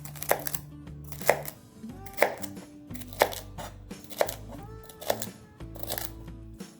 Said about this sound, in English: I'm gonna cut the celery in cubes as well